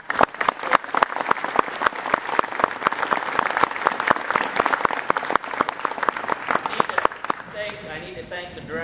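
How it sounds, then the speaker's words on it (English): An audience at a middle school honor band concert applauds with dense, steady clapping that carries on for several seconds before fading, as a voice starts speaking near the end. "So another round of applause"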